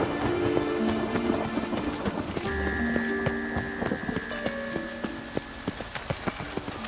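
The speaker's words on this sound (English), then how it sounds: "Rain again." Rain in The Witcher 3, a steady patter of drops on surfaces filling the scene, with scattered sharper drips and faint tonal game sounds layered underneath, no talk.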